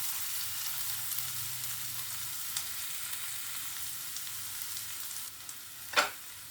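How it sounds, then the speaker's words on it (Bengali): Tomatoes frying in a pan for egg do pyaza, a steady close sizzle that continues alone throughout, broken near the end by a brief clatter, likely of a stirring utensil. "টমেটোটা ভালো করে ভাজতে হবে যাতে এর মধ্যে একটা কাঁচা গন্ধ থাকে সেটাও না থাকে এবং ভালোভাবে সেদ্ধ হয়ে যায়।"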